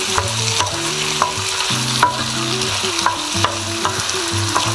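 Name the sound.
stirring vegetable couscous frying in a pan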